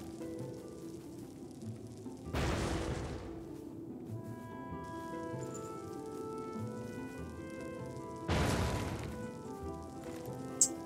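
Two bursts of a bomb tree exploding in the video game Oceanhorn, one early and one late, each a short noisy crash over a soft, steady musical game background.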